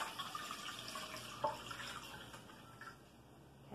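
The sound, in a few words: vinegar being poured into a pot for pickling garlic scapes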